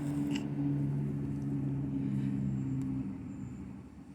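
A car passes on the street outside, a low steady engine hum and tire rumble that holds for a few seconds then fades away, heard indoors and without talk.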